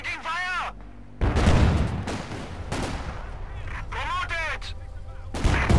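Gunfire rattles through a Company of Heroes 2 battle, with loud bursts of shots and explosions and soldiers' voices shouting over the combat.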